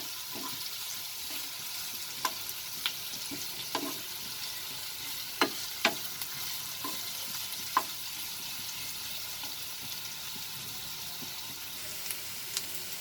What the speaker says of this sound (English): Increase the flame. Just for the onions to have a little fried texture